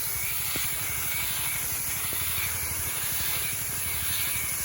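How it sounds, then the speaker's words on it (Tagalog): A pressure sprayer misting plants against whiteflies gives a continuous close hiss that holds steady throughout, with faint ticks underneath. "at nag-i-spray ako, walang tagahawak ng ng camera"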